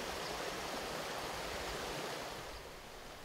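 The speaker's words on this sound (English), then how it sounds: "This is Ficky Run, arguably the most acid mine drainage impaired stream in all of West Virginia." Rushing water in Ficky Run, a West Virginia creek heavily impaired by acid mine drainage with orange water and rocks, a steady broadband wash that eases slightly toward the end, no voices.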